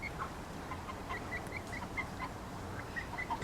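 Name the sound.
free-ranging chickens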